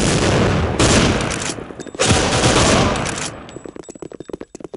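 Video game shotgun blasts ring out in heavy, booming bursts, two long volleys followed by a rapid crackle of smaller shots and echoes, loud and close.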